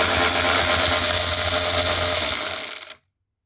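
A power tool whirs steadily as a 10mm bolt is backed out of a Renault Kangoo car door during a door lock actuator replacement, running close and loud for about three seconds before cutting off abruptly.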